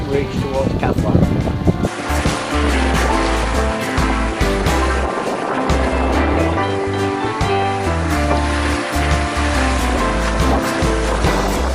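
Water rushes and splashes against the hull of a sailboat under sail with its engine off, in a continuous loud wash, with low wind buffeting and some muffled voices underneath, in the Caribbean waters of St Vincent and the Grenadines.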